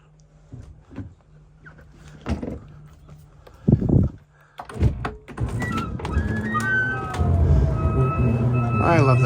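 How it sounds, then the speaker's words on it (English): A slide-out on an Arctic Fox 1150 truck camper retracts during a winter camp, a mechanical whir building after scattered thumps and rising steadily to the end, close and fairly loud with a person speaking over it. "Get the slide in."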